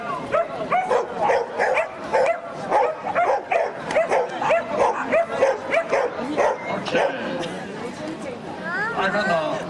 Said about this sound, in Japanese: ほら見てごらん、ワンワン見てごらん